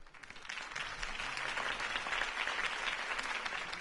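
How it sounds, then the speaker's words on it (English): Crowd applause in the Batman Telltale Series game following Harvey Dent's campaign speech, a steady wash of many hands clapping at moderate distance, sustained for the full few seconds. "If only Mr. Wayne, my campaign's largest backer, could have heard that applause"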